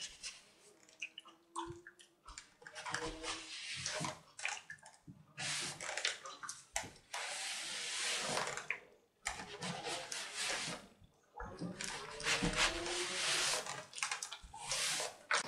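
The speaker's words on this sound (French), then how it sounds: "Je prends mon fer à repasser et là je viens repasser mon ourlet." A steam iron pressing a rounded fabric hem, with bursts of hissing steam and soft thuds and slides of the iron on cloth, close and alternating with brief pauses, no talk.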